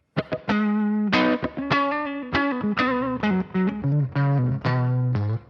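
Distorted electric guitar through the SP-404 MK2 sampler's amp simulator and reverb plays a melodic run of picked notes, with a roomy reverb tail letting each note linger.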